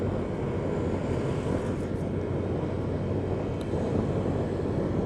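A 2022 Honda Vario 125 scooter ridden along a road, its steady engine drone mixed with rushing wind noise, constant and fairly loud throughout with no talking.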